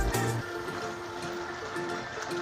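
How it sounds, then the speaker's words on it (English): Water trickles and burbles steadily from the small Gwilly river flowing quietly through Hendy Park, a soft, continuous flow close by with no voices over it. "A little Gwilly river"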